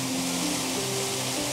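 Water pouring in a small waterfall with a thin stream falling into still water, a steady broadband rushing hiss with no breaks, close and constant, with a faint low hum underneath.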